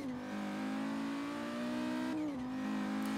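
A car engine in Forza Horizon 3 hums steadily at high revs with a brief pitch dip and recovery near the end, loud and continuous with no voices.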